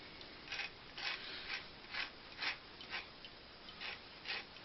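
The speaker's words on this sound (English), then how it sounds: "take a little of the coating off the orange" Orange peel rubbed against a zester in about ten soft, rhythmic rasping strokes, close and fairly quiet over a steady hiss, during home dandelion wine making; no talking.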